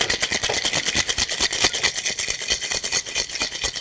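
A cocktail shaker is shaken hard back and forth in a fast, steady rhythm of rattling, rasping strokes, loud and close with no talk.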